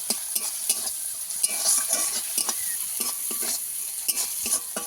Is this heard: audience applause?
no